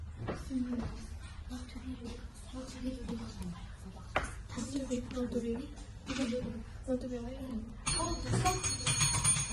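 A bell rings in a biology classroom to signal the first group, breaking in near the end as a bright, sustained ringing after several seconds of a teacher talking.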